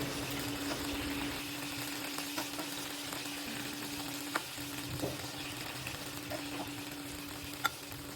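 Beef and potatoes fry in a pan with a soft, continuous sizzle and bubbling, broken by a few faint pops and clinks.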